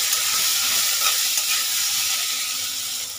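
Ridge gourd stirred in a hot pan with grated ginger and turmeric, a steady broad sizzle of frying filling the whole stretch with faint scraping movement, close and fairly loud, no talking.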